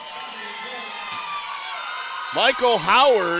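A crowd cheers and roars steadily at a high school boys basketball game between Mansfield Christian and Lucas. The broad, sustained crowd noise gives way near the end to a commentator talking over it.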